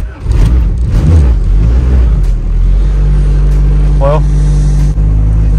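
A turbocharged Honda Civic engine with a HunterTuned ECU runs steadily at close range, a loud low rumble that holds through the clip while someone speaks briefly over it.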